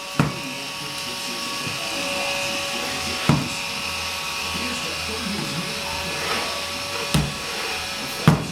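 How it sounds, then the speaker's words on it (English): A vacuum cleaner runs indoors with a continuous buzzing drone, broken by a few sharp knocks as it bumps about, while voices talk over it. "Are you vacuuming?"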